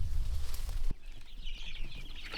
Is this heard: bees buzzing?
no